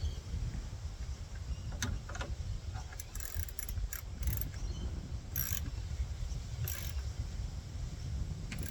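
Ratcheting clicks and metallic mechanical taps from tightening parts on a Yamaha 25 outboard boat motor, intermittent bursts over a steady low background hum, with no talk.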